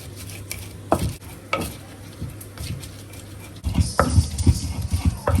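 Habanero peppers, aniseed and rosemary are ground in an asanka bowl for jollof rice, irregular scraping and knocking strokes close by that grow busier and louder toward the end.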